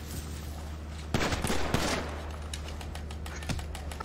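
Gunfire in the video game GTA 5 crackles in rapid automatic bursts, a dense rattle of shots up close followed by scattered fainter pops.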